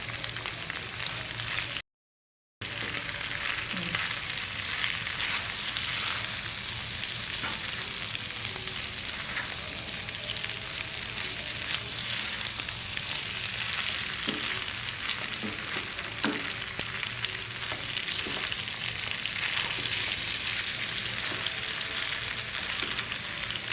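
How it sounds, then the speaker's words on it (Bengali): Chicken sausage pasta with soy sauce is stirred in a frying pan, making a continuous close sizzle with scraping stirring noises throughout. The sound drops out for a moment near the start, and nobody speaks. "পাস্তাগুলো দিয়ে ভালো করে নেড়ে মিশিয়ে নেব"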